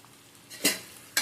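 A spoon scrapes twice through a tamarind stew with taro roots, salt and chili in a pot. The two close strokes sit over a soft simmer, and nobody speaks.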